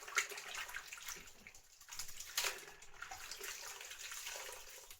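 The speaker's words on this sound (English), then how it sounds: "So, I'm going to wet the face." Tap water runs steadily at a modest level while a face is wetted before a straight-razor shave, with brief louder splashes as hands scoop and apply it, no one talking.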